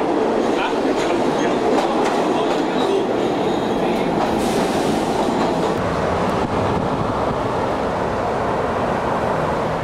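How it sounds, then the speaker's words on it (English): A subway metro train rumbles steadily and loudly nearby, with a dense roar, rattling wheel noise and faint squeals running through the whole stretch, while people speak faintly underneath. "Mira, este es el metro, transporte público."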